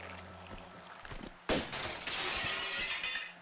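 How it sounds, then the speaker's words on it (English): Glass shatters loudly in the Tomb Raider II video game, a sudden crash halfway through followed by a bright, sustained tinkling spray of falling shards over low game ambience. "It's gonna blat some glass, and then the glass is gonna be on the other side."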